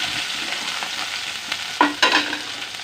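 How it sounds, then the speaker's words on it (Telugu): Curry leaves, dried red chillies and spices crackle and sizzle in hot oil in a pan on low flame, a dense steady frying hiss with a few sharp pops near the end. "కొద్దిగా కరివేపాకు మొత్తం తాలింపు అంతా వేసుకోవాలి దోరగా స్టవ్ సిమ్లో పెట్టుకొని దోరగా వేగనివ్వాలి"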